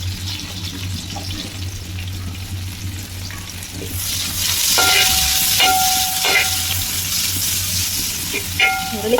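Onions sautéing for chicken curry in an uruli, a steady sizzle with stirring scrapes and a brighter crackle building midway, close and continuous with no talk.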